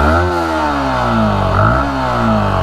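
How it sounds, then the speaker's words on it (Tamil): A Yamaha MT15 motorcycle engine is revved with the throttle up close, its loud buzzing note rising and falling through a couple of quick throttle blips. "பைக்கை த்ராட்டில் பண்ணுறாருங்க."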